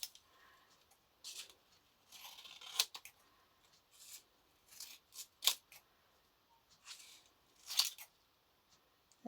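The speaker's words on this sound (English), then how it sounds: "what I'm going to do is to cut through the ends here, cut through the folded bit" Scissors snip through folded paper pieces for mini junk journal notebooks, heard as a handful of quiet, separate cuts spaced a couple of seconds apart in a still room.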